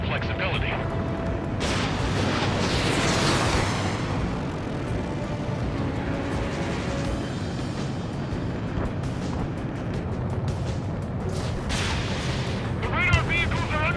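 Sustained gunfire and explosions from an air-combat video game rumble continuously as radar vehicles come under attack, with dense booms and crackling shots throughout and brief sharper bursts near the end.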